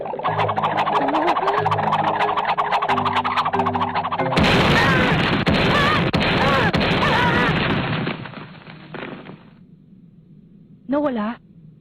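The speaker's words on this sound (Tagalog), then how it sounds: "Malakas ang tunog at shockwave kapag sumabog pero parang hindi naman nakakasakit." Bubbles in an anime fight burst with loud bangs and shockwaves: a dense, sustained barrage of sharp explosive cracks over dramatic music, followed by a quieter stretch and one last short burst, with voices around it.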